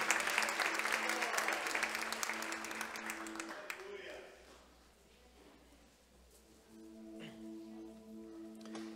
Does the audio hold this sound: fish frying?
no